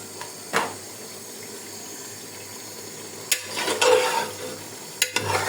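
Beef rezala bubbles and fries in a pot, a soft steady simmer nearby broken by a few sharp stirring scrapes and clatters of a spoon.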